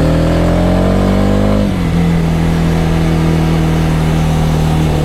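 A Voge 300 AC single-cylinder motorcycle on its stock exhaust revs high, then drops abruptly to a steady, throbbing idle, loud and close with no talking.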